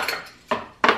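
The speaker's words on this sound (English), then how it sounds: "This is the first drawer." A kitchen drawer full of cutlery is pulled open, with three quick metallic clatters and rattles of utensils shifting close by and no talking.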